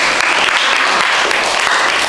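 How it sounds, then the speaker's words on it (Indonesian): Steady clapping from a group of students in a classroom, dense and continuous for a couple of seconds. "Kasih tepuk tangan dulu temannya."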